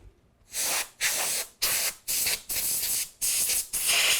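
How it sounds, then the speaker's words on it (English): Short bursts of canned compressed air hiss loudly, blowing dust from wood before epoxy coating, seven sharp sprays in quick succession separated by brief pauses. "spray it down with air in a can to get any dust out of the air bubbles"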